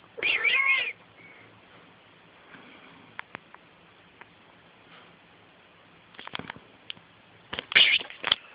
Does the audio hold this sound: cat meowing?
yes